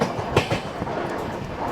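The Amaravati Express long-distance train rolling along, with rhythmic clickety-clack of wheels over rail joints and a steady rumble heard from on board, no voices.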